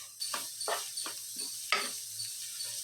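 Sliced onions with chopped green chillies and salt sauté in a pan while cooking chicken 65 biryani, a soft steady sizzle broken by several scraping stirs at regular intervals.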